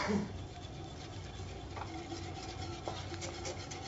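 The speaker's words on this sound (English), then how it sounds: "you just stir in that sugar" Sugar is stirred into a vanilla bean mixture for a crispy bread pudding French toast, making a steady, close scraping and rubbing sound that runs unbroken for several seconds with no talk.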